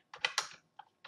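A few quick keystrokes clatter on a computer keyboard, a soft cluster of taps followed by a single lighter press and another beginning at the end, faint and close.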